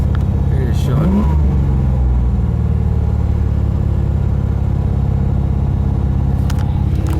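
C4 Chevrolet Corvette Sport Coupe engine idling a little too high, a steady close rumble that stays even throughout with brief voice-like sounds near the start.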